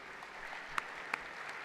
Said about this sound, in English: please give a big round of applause as we welcome on stage Mr. Rana Sinha